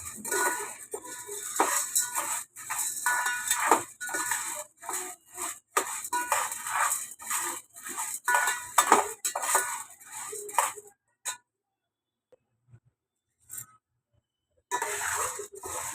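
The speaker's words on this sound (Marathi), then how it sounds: "आता ही भाजते मी, थोडीच भाजते, मग परत भाजणार आहे दुसऱ्यांदा." Chana dal being dry-roasted in a pan, with rapid repeated scraping and rattling of a spatula against the metal in a busy rhythm, close and fairly loud, then a few seconds of near silence before the stirring resumes.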